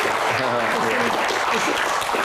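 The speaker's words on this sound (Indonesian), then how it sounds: "Tepuk tangan, guys." An audience at a Q&A session applauds in a steady, dense wash of clapping throughout, with voices faintly mixed in underneath.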